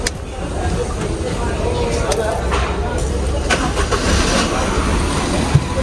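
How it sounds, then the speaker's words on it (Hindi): A Maruti Celerio with about 100,000 km, in for a major service, has its engine started and settling into a steady idle. The engine noise holds under background workshop noise for the whole stretch, and a voice speaks over it. "गाड़ी ऑन हो गई है।"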